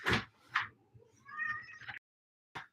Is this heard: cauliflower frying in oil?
no